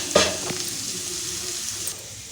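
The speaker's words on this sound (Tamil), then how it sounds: "சிறுவில் வச்சு நல்லா கலக்கி விடுங்க" Garlic pepper rice being stirred in a pan over a low flame: a close, steady frying sizzle with a sharp scrape of the utensil near the start, then the sizzle continuing alone.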